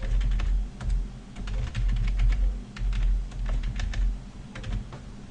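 Code is typed on a computer keyboard in quick, uneven bursts of close, crisp key clicks, with short pauses between runs over a low background rumble and no talking.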